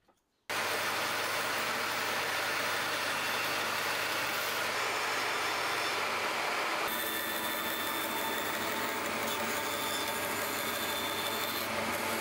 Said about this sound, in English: then I can get that little bit cut off on the bandsaw